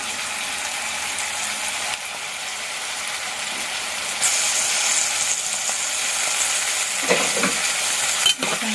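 Tomatoes stirred into ladyfinger (okra) curry frying in a pan, a loud continuous sizzle with scraping spoon strokes and a few sharp clinks near the end.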